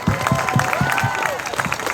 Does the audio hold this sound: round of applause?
yes